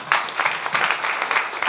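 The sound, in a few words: audience applause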